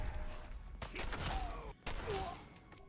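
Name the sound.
gunshots in video game Fallout 4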